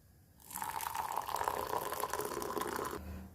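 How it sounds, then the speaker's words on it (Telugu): Milk poured into a rice cooker while making coffee, a steady liquid pour running for about two and a half seconds, close and moderately loud, with no talking. "ఇప్పుడు పాలు పోసుకుందాం రైస్ కుక్కర్లో."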